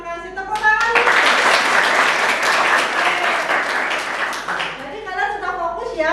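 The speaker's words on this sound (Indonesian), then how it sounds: "Tepuk tangan." A class of pupils clapping hands together in a classroom, a dense, loud burst of applause lasting several seconds, with voices chanting and talking before and after it.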